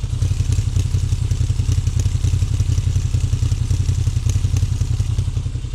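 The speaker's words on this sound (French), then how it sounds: "la laisse démarrer, écoute ça" A motorcycle engine idles and runs close by, a loud, steady low throbbing with rapid, even pulses and a slight mechanical clatter, no voices over it.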